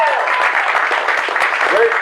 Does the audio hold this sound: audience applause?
yes